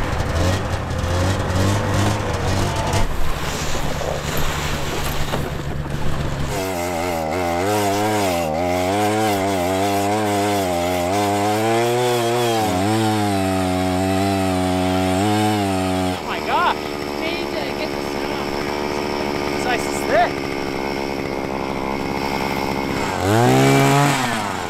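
A powered ice auger bores through a frozen Alaskan lake, its engine droning loud and steady with changes in pitch as it cuts, and a voice is heard near the end.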